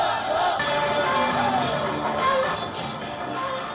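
Large, mostly young crowd of anti-government protesters at a rally in Iraq, a dense roar of many voices with shouts and whoops rising over a steady, loud murmur throughout.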